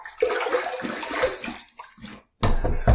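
Water splashed by hand onto a face before a wet shave: one short, sharp watery splash near the end, after a stretch of wet rubbing and dripping sounds, heard close up with no talking.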